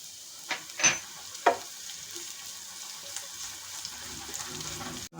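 Chopped onion and green chillies frying in a pan: a few clattering stirs at first, then a soft, steady low sizzle for several seconds with no talking.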